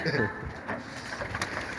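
A pigeon coos softly nearby, with faint flutter and background voices.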